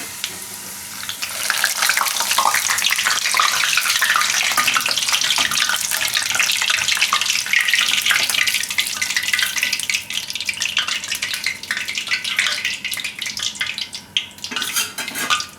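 Papad frying in hot oil for a Gujarati papad paneer roll, a dense, steady bubbling sizzle that rises abruptly and stays loud and close throughout, with no talk.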